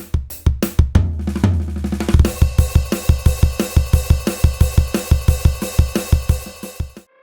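An electronic drum kit plays its stock sounds. A few separate hits and a short fill lead into a steady, driving groove of punchy, evenly spaced strikes, loud and close, with no one speaking.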